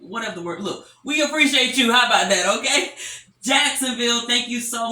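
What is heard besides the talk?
No everyday noises stand out.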